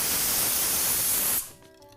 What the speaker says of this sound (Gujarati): અત્યારે આપણે પાણી લઈએ છીએ, એમાં થોડા બરફના ટુકડા ઉમેરી અને ક્રશ કરી લઈએ.